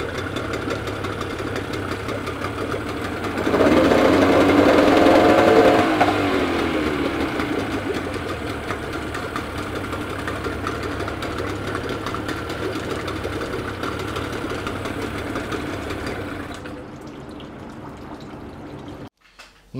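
A Suzuki 9.9-15 two-stroke outboard motor runs steadily throughout, with a louder burst of revving for a few seconds early on, then settles back to an even drone before cutting off near the end.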